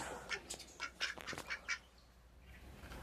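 A run of nasal quacks from a lethargic-seeming duck comes in short bursts, fairly faint against a steady background hiss, then fades to quiet.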